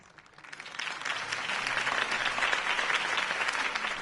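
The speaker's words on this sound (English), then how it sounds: "could have heard that applause" Crowd applause swelling after a campaign speech in the Batman Telltale video game, rising from quiet to a dense, sustained clapping roar that holds steady without talk.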